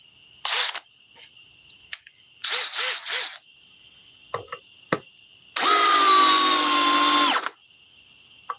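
A DeWalt power tool whirs in short bursts: a brief pulse, then a quick triple burst, then a longer steady run of about two seconds, with clicks between and a constant high-pitched background hum.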